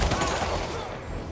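Gunfire in the video game Marvel's Spider-Man Remastered, a dense rolling volley of shots that runs continuously, loud and close, with game voices calling out mixed in.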